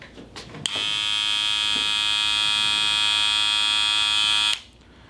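Wahl Senior 5-star cordless hair clipper switched on, a loud, steady buzzing hum that runs for about four seconds and then cuts off abruptly.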